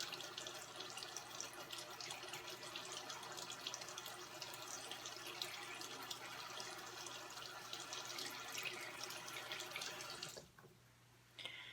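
Water runs from a tap over a bar of felted soap, a steady faint splashing stream that cuts off abruptly near the end, leaving only a little dripping.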